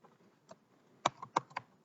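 A handful of separate keystrokes on a computer keyboard while entering a spreadsheet input message, quiet and close, sparse with a small cluster of sharper taps near the end.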